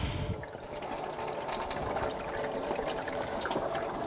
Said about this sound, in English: And drain the coolant.